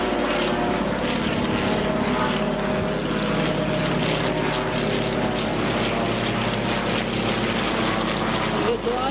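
Propeller airplane, a replica of the Lituanika, flying overhead at Nida, a steady loud engine drone holding throughout with a low hum underneath.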